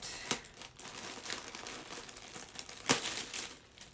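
Packaging for a Gucci leather belt with a crystal Double G buckle crinkles and rustles as it is opened, with irregular paper crackles and two sharper tearing snaps up close.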